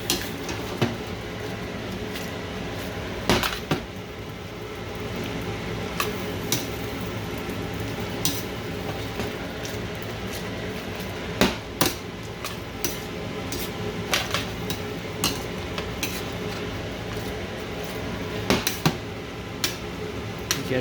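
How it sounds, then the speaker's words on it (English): Carbonara being stirred and mixed in a pan as it warms, with scattered light clinks and scrapes of a utensil over a steady low background hum. "as I stir and continue to mix and it warms up, you'll see it's going to become creamier and creamier"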